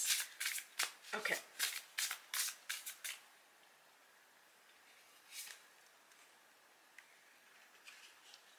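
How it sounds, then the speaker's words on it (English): Stiff cardstock cards from a Song of the Grandmothers board game prototype being riffled and shuffled, a rapid series of crisp flicks for about three seconds, then a few softer isolated card sounds in a quiet room. "It's so fun shuffling these colors."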